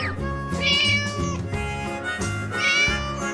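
A cartoon cat meowing twice, close and clear, each meow a drawn-out rising then falling cry over a light musical backing.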